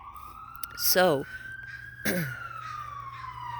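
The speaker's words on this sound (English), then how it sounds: "another siren." An emergency vehicle siren wails down the street, its tone slowly rising and falling, while a voice speaks briefly nearby.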